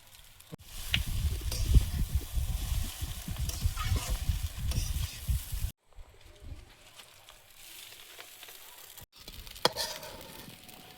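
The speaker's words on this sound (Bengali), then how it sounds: "এবারে গোলমরিচ গুঁড়ো ছড়িয়ে একটু নেড়ে চেড়ে নামিয়ে নেবো" Chowmein tossed with pepper powder in a frying pan, rough scraping and stirring with a low sizzle at close range, cut off abruptly partway through, then quieter faint sizzling with a brief clatter near the end.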